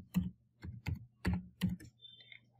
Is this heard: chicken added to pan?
no